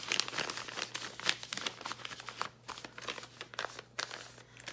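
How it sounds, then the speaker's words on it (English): Paper crinkles and rustles as money is sealed into a small, ordinary paper envelope, with soft crisp crackles and a few sharper crunches close by, fairly quiet throughout. "I just seal it off into a little regular envelope here."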